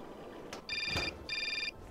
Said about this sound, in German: Aha, das Telefon klingelt schon wieder.